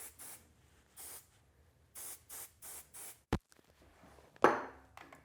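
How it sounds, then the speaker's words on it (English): Aveda Air Control light hairspray misted in about eight short spray bursts, evenly spaced over several seconds, close and fairly crisp, with a sharp click and a louder final puff near the end. "It's a very light hairspray."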